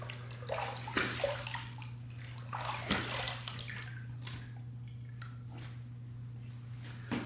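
A razor is rinsed under running water, with bursts of splashing and gushing as it is swished back and forth, then softer trickling and drips over a constant low hum.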